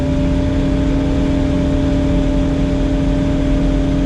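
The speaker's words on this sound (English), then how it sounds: "it sounds like a tractor." A Kubota RTV X1100C diesel utility vehicle fitted with tracks idles steadily close by, a loud constant tractor-like rumble with a low droning hum and no pauses.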